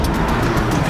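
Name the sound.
car engine accelerating on a track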